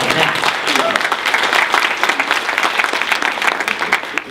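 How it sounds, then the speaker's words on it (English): Audience at an annual meeting breaks into dense, sustained applause that fills the whole stretch at a steady, loud level, with a hint of voices mixed into the clapping. "how about a round of applause for us all that?"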